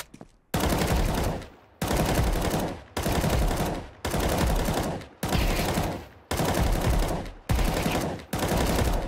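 M4 rifle in Counter-Strike 2 firing in repeated sustained full-auto sprays, seven or eight long bursts separated by short pauses, loud and close with no talk.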